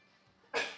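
A single sudden sneeze bursts out near the end after a quiet indoor stretch during a calm evening at home, loud and close.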